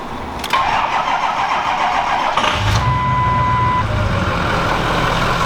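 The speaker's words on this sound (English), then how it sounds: "then you can start the truck up" A truck's engine cranks and catches at about 2.5 seconds, settling into a steady, close idle; the truck is a largely stock diesel pickup that still has its EGR system, and a short electronic whine sounds just before the start.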